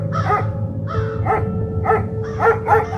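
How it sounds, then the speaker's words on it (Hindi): Dogs at a cremation ground bark in a quick series of about eight loud, close yelps and barks over roughly three seconds, with a low steady hum underneath and no voices. "जब वह शमशान में जाके रोटी बनाती तो उस पर कुत्ते भौंकते थे"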